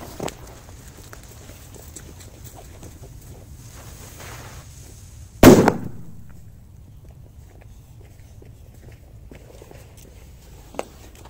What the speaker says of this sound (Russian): Обожаю такие петарды мощные.